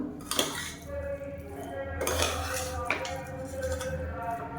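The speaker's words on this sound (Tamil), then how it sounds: "இப்போ வந்து கீழேருந்து மேலே வரைக்கும் நல்லா பரட்டி விட்டுக்கலாம்" Mint rice is turned over from bottom to top in a pot, with scraping and clinking of a metal spoon against the pot in a few distinct bursts over a low hum.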